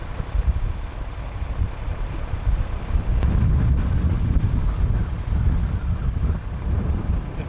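Wind buffeting a boat as it motors out of a marina exit, a steady low rumble of gusts and water noise filling the whole stretch, loud and close with no one speaking.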